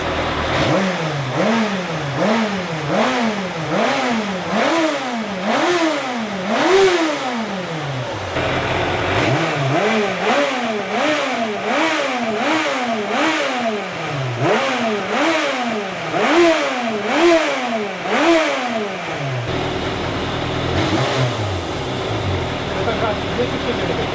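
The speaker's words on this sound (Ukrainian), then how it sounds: "Зараз погазуємо, побачите, що воно реально працює, все ідеально." Yamaha Thundercat motorcycle engine revved repeatedly after carburetor tuning, a series of quick rising and falling throttle blips in a steady rhythm, loud and close, with a short pause midway and someone talking over parts of it.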